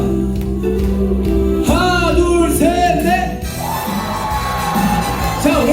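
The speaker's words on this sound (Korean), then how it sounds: "자 여러분 오른편부터 함성 들어보겠습니다" A lively crowd cheers and shouts together at a singing class concert, loud and sustained, with music playing underneath and occasional whoops rising above the roar.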